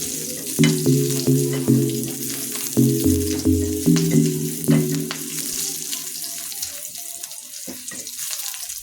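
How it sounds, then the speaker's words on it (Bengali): Onion and garlic fry in a pan over a hot stove, a continuous sizzle under a string of loud close tonal clanks and scraping stirs, the clanks fading out in the second half while the hiss carries on. "পেঁয়াজ রসুনটা আমি লাল লাল করে ভেজে নিলাম।"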